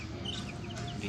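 White Kelso chickens cluck in short, soft bursts, with faint chirps over a steady low farmyard murmur.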